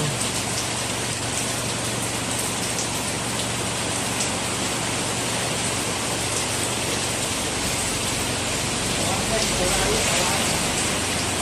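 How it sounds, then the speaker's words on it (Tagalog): Heavy typhoon rain pours down steadily in Baguio City, Philippines, a dense even hiss of drops drumming on surfaces with no letup. "Baguio City, medyo lumakas yung ulan."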